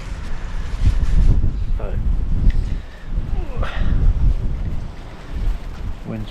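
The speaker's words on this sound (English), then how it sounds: "wind's blowing a gale." A strong gale buffets an outdoor microphone beside a camper's water hose and tank, a loud, continuous low roar with gusty surges, while someone speaks briefly over it.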